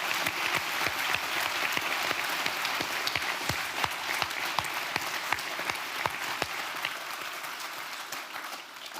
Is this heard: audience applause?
yes